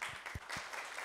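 A workshop audience at a business forum gives a team a brief round of applause, heard as a short, soft patter of clapping that lasts about a second.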